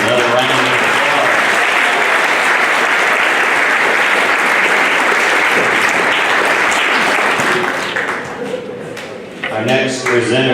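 Loud, sustained applause from a school audience at a middle school academic awards ceremony for seventh-grade students fills the room with dense clapping. Near the end it thins out, and voices begin to emerge as the clapping tapers off.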